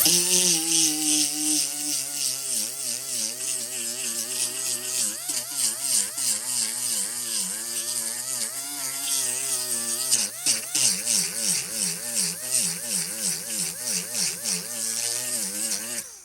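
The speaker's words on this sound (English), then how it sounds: "So I'll just grind a little bit, or sand" A power tool grinds and sands seam sealer on a Mustang Fastback body, its motor whining steadily and shifting pitch as the load changes, loud and close throughout.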